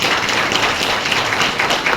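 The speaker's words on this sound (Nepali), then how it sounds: "टिचरको लागि एकचोटि जोरदार ताली बजाइदिनु" An audience claps for the teachers in a dense, steady burst of applause, loud and sustained across the short moment.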